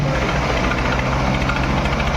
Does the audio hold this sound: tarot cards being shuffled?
no